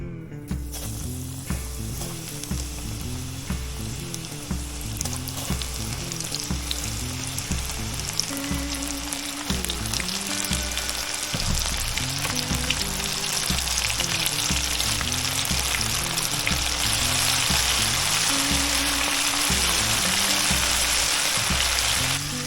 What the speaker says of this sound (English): Common carp, cooking up in the hot oil.